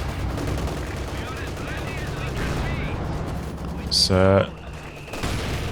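Werfer rocket artillery strikes in Company of Heroes 2, heard as a loud burst of explosions and rattling impacts near the end, over constant game battle noise, with someone commentating briefly at the start.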